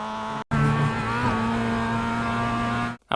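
A Mazda MX-5 race car in the iRacing simulator accelerates with a loud, steady, buzzing engine note. The note cuts out briefly after half a second, then holds strong until a short drop near the end.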